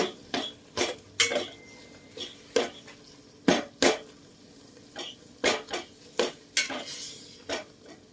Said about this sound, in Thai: ต้องคนไปก่อน คนให้หมูมันหอม